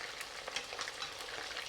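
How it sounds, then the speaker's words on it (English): Steady, close crackling sizzle of chicken pieces deep frying in hot oil for Manchurian chicken, a dense bubbling hiss with no voices. "Double frying will crisp up the chicken as well as remove most of the excess oil."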